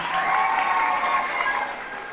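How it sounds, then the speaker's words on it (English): A crowd at a high school graduation ceremony claps steadily in sustained, dense applause that gradually softens toward the end, with a few cheers mixed in. "Give them another round of applause."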